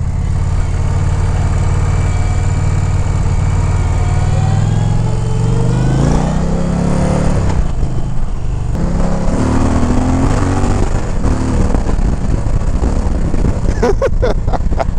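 An Indian Challenger motorcycle with its stock exhaust pipe, loud and close with a deep engine rumble rising and falling as the throttle opens, the pitch climbing mid-way, wind noise toward the end.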